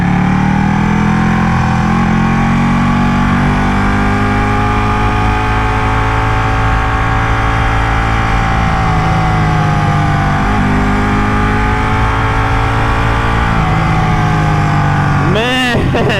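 A Ducati Panigale 1199S motorcycle engine runs loud and steady while riding, a constant throaty drone with slowly shifting pitch and a brief throttle change near the end, heavy wind rush mixed in.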